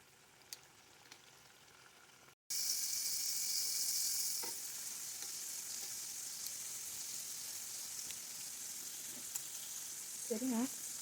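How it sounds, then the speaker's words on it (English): Vegetables such as bell peppers pre-fry in a little oil over medium heat, a loud, steady crackling sizzle that jumps up suddenly after a quiet start and continues close by, with faint voice at the end. "I usually pre-fry everything in medium heat"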